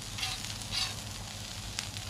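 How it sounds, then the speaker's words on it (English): Onions sizzling on a hot Blackstone griddle, a steady soft frying hiss with a few faint pops and scrapes, close up and without talk. "I've got this just sitting on simmer while I'm doing these onions and kind of getting them started"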